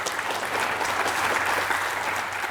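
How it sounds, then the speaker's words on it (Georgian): Studio audience applause on a quiz show, a steady dense wash of clapping that stays loud and even throughout, with no voices over it. "აპლოდისმენტები"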